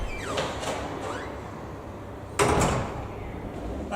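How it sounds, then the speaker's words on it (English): A manual lift door at a police station is pulled shut, a short scrape early on and then one solid clunk as it closes, heard close by in a quiet hall with no talking. "closing the door behind him."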